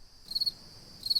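Cricket chirping in brief high-pitched bursts at the start and end, fairly faint against a low background hum with no voices.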